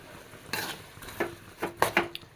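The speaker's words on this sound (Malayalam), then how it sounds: "എല്ലാം കൂടി ഒന്ന് മിക്സ് ചെയ്ത് കൊടുക്കണം." A spoon scrapes and clinks around a pan while stirring lemon pickle with chili powder and turmeric, in a handful of separate sharp metallic strokes over a quiet, faint sizzle.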